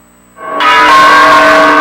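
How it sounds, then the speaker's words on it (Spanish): Church bells peal out loud and sustained after a faint opening, their overlapping ringing tones filling the air continuously, with no voices present. "Las campanas sonaron"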